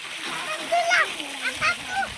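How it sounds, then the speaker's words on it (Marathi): Water splashing and gushing steadily at full pressure from a solar-powered pump pipe at a dam while a person talks over it. "एवढं पाणी मारते ऊन असलं तर बघू काय फुल प्रेशर पाणी मारतं हे पाणी चालू आहे"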